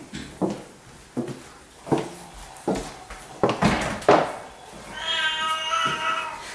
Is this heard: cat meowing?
yes